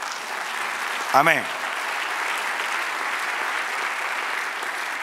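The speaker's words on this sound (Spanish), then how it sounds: "Dar un aplauso al Señor." A church congregation gives steady, moderately distant applause during a sermon, a dense, even hiss of many hands lasting throughout, while one voice briefly speaks over it near the start.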